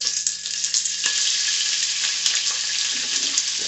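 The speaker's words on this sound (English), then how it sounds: "All right, so we're going to go ahead and add that to the oil." Bacon frying in hot oil in a pan, a loud, steady close-up sizzle with crackling pops, continuous and without talking.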